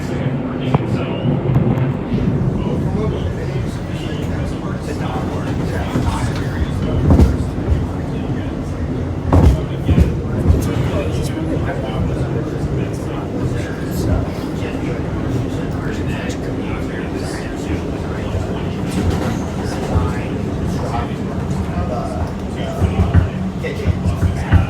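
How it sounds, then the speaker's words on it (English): An NYC Subway R211 A train rides along, heard from the front car as a steady, fairly loud rumble of wheels and car body. Occasional clanks and bumps break through the drone, and people talk over the noise now and then. "Here's the front of the train ride there"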